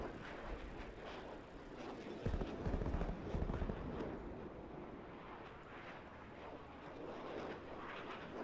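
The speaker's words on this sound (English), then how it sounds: "Spy plane established overhead." A spy plane in the video game Call of Duty Cold War roars overhead as a steady, broad engine drone, with a heavier rumbling swell early on amid muffled game noise.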